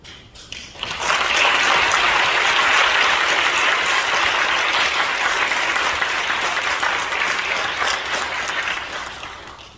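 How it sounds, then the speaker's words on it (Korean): A church congregation bursts into sustained, dense clapping that swells quickly and holds steady for several seconds before tapering off. "한번 박수로 환영해 주시면 좋겠습니다"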